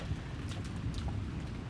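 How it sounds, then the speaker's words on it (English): Steady rain hiss from the Umineko visual novel, a soft continuous wash with a few faint brief ticks on top and no voices. "it created an eerie silence with no sound except that of the rain"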